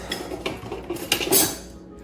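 Dishes and cutlery clatter and clink in a kitchen as someone rummages through them looking for a knife while cooking potatoes, a run of close, scattered metallic knocks ending in a louder jumble, with no talking.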